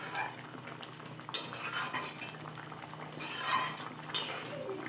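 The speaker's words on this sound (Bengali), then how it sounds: "গুঁড়ো দুধ নিয়ে এখানে আমি কিন্তু খুব এটাকে এক হাতে দিতে হবে আর এক হাতে এটাকে মিশাতে হবে" A spoon stirs powdered milk into a pot of vegetarian biryani gravy, giving a steady scraping and swishing with two sharp metallic clinks against the pot.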